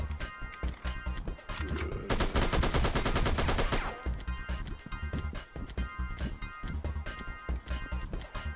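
Rapid automatic gunfire bursts ring out in a zombie first-person shooter game, a dense loud stretch of shots in the middle flanked by sporadic single shots and thuds throughout.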